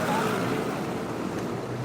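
Steady wind blows over the open water of Dubai Creek in the evening, a continuous broadband rush with gusty microphone buffeting and faint lapping waves, no voices.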